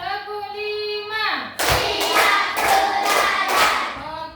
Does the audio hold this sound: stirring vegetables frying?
no